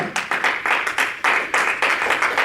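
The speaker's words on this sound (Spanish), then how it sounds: "Aplauso al Señor." A church congregation breaks into rhythmic applause, loud and close, with bursts of clapping repeating in steady waves.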